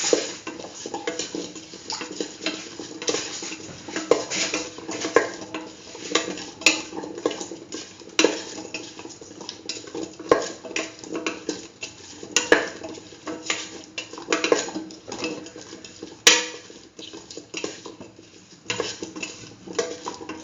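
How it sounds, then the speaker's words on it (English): A spoon stirs salt into a potato and chayote stew in a pot, giving a steady run of scraping and clinking against the metal sides with soft liquid movement underneath, close and moderately loud throughout. "Mix in the salt."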